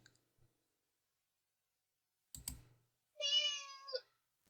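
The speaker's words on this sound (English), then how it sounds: "And it meows." A cat in the video game Flower Letters lets out one clear, short meow in a quiet scene, preceded by a sharp click.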